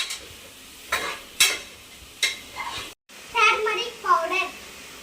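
Biryani masala with turmeric being stirred in a pan, giving a few scraping, sizzling strokes with short pauses, while a voice talks over the second half.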